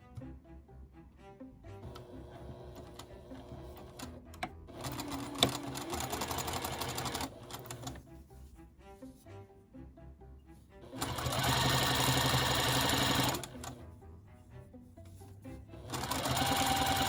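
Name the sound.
sewing machine stitching quilt block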